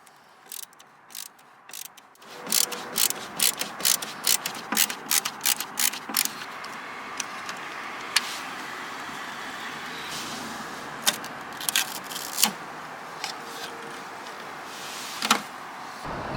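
Clicks, snaps and ratcheting rattles come from a speaker cover being pried off the bare inner door of a 1985 Jaguar XJ6 with the door panel removed, a quiet stretch and then a burst of sharp plastic clicks, close up.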